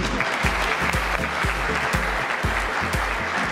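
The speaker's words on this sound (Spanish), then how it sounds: "Un aplauso para este panel" An audience at a regional entrepreneurship networking event applauds a panel, with steady clapping over a regular low thumping beat, likely background music, until it cuts off abruptly.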